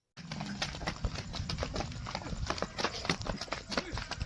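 Horse hooves clip-clopping on a farm track in rural Gujarat, a steady run of sharp, fairly close hoof strikes with no voices.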